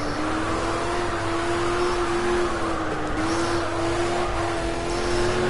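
A Ford Mk IV race car in Project CARS losing grip and spinning, its engine holding a steady drone with a slight pitch dip midway, loud and continuous with no talk.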